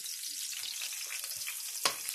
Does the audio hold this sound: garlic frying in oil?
yes